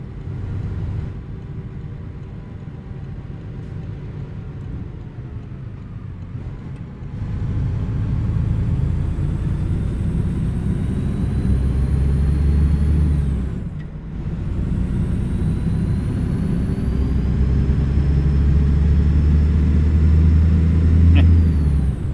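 A heavy truck hauling a 34,000-pound load of dynamite in American Truck Simulator gives a steady, close engine rumble that builds as it accelerates, with a brief dip midway like a gear change.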